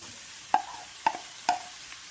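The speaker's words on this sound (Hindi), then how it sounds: "इसी घी में ग्रेट किया हुआ बीटरूट डाल दें।" Grated beetroot frying in ghee in a pan: a faint sizzle runs throughout, broken by three sharp stirring scrapes spaced about half a second apart.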